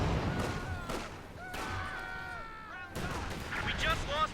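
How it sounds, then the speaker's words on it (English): Calliope rocket artillery firing in a Company of Heroes 2 4v4 battle, several sharp launches and booms spread across the clip amid overlapping game effects and whistling projectile tones. "Calliope is firing into the center hour"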